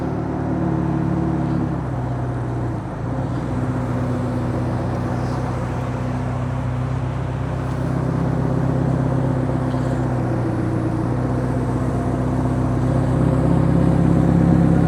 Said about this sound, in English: Beautiful F40 rolling in, stopping Daikoku in one little swift move.